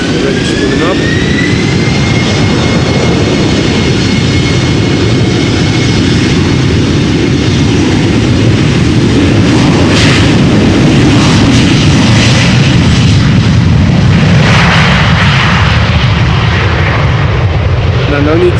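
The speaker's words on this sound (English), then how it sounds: "this is an Embraer 190 from KLM, flight 1485, destination Humberside" KLM Embraer 190 jet, a 14-year-old airplane, spooling up its engines at Amsterdam Schiphol: a loud, steady broadband roar with a rising whine, continuous throughout, with voices heard faintly underneath.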